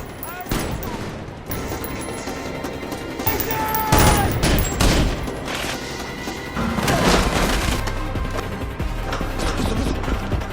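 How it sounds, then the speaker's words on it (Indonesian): An action film shootout brings rapid bursts of gunfire mixed with heavy booms and crashes, loud and dense throughout, with some voices blended into the chaos. "Brezhnov berusaha membalas menembak"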